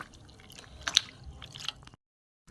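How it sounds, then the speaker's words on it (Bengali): Fresh paneer curds are squeezed and kneaded by hand in washing water, giving soft wet squelches and small drips for a couple of seconds before it falls silent. "ফের জল দেবো আমি, আবার চটকাবো"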